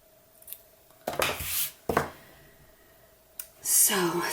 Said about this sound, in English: me cut it a little